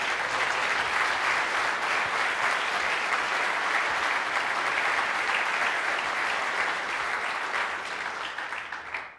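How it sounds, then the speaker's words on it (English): Conference audience at PuppetConf 2013 applauding, a sustained, even wash of many hands clapping for about nine seconds, loud and full, tapering off at the end with no talk over it. "if you guys want to give him a round of applause"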